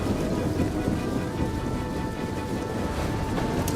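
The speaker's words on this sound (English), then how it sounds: "It is raining too." Steady rain and low thunder rumble during a battle in Rome 2 Total War, a continuous dense wash of rainfall heard alone without talk.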